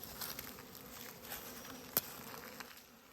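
Honey bees hum steadily around a backyard hive on a small farm, a soft continuous buzz with faint patter and one brief click, heard at low level with no voices.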